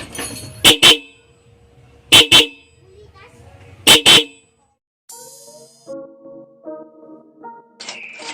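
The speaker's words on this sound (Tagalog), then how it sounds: "testing natin yung tatlo nating busina" Three loud, short double motorcycle horn blasts sound at regular intervals, followed by a run of rising and stepped tones of different pitches from a triple horn set on one relay.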